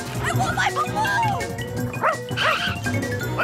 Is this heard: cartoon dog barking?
yes